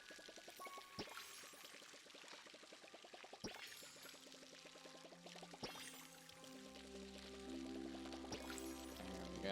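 Water pours from a watering can onto crops in the farming game Palia, a steady close trickle broken by a few sharp splashes and chimes, with layered game music and effects running beneath.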